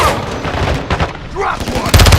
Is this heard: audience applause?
no